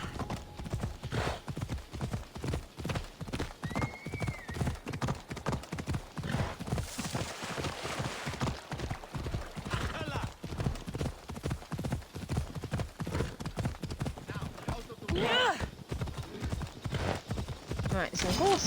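Rapid rhythmic hoofbeats of a galloping horse in Assassin's Creed Odyssey run throughout, with a whinny and scattered game sounds layered over them.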